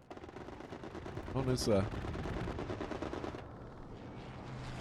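A strafing run in the WWII shooter Hell Let Loose sends dense, rolling bursts of gunfire across the battlefield, a continuous wash of automatic fire under a voice speaking briefly.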